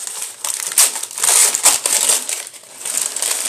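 Crinkly paper packaging around premium product samples is torn and unwrapped close by, giving irregular bursts of loud crackling and crumpling with short pauses between them and no talking.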